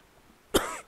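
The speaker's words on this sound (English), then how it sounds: "I feel like I've been coughing this whole time." A single sharp cough bursts out close by during a Horizon Zero Dawn PS4 playthrough, short and loud against a quiet background.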